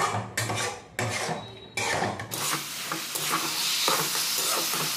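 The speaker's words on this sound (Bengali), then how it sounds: "তো এইভাবে নাড়াচাড়া করে" Spiny gourd (kantola) stir-frying in a pan: a loud oily sizzle with a spatula scraping and tossing the vegetable in irregular strokes, close up and without speech.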